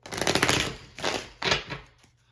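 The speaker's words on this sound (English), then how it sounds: "We'll do one more shuffle here with the Wizard's deck." A Wizard's tarot card deck is shuffled in three quick riffling bursts, close and crisp, each fading out, with the last tailing into quiet.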